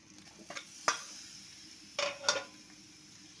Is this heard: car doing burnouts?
no